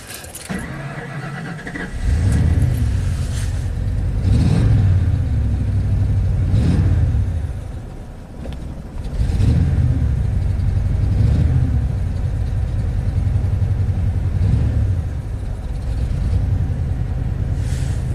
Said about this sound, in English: If I rev it up, it goes to like 20.